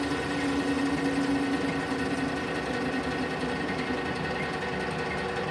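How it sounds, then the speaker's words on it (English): A metal lathe faces the end of a steel trailer board pin for a hovercraft, producing a steady mechanical drone with a faint cutting whine that holds evenly throughout. "if we just pop these in the lathe, we can just tidy the end up"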